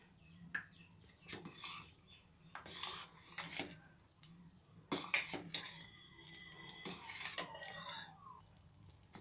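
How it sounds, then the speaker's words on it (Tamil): Moong dal payasam being stirred after ghee-fried cashews are added: intermittent metal spoon clinks and scrapes against the pot in a quiet kitchen, with short bursts of clatter. "முந்திரி பருப்பு போட்டு ஒரு கலர் கலக்கிறேன்"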